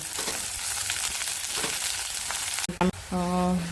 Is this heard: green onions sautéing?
yes